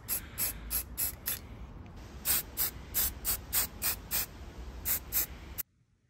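Aerosol spray paint in white, off-white and beige tones bursts from a can onto a woodland cabin diorama backdrop: a dozen or so short, loud hissing puffs in an uneven rhythm, heard up close with no voices, then an abrupt cut to silence.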